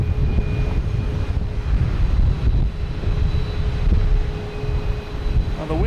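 Strong gusty wind buffeting the microphone outdoors at Boston Logan Airport, a loud continuous low rumble with surging gusts and a faint steady engine hum underneath, no talking.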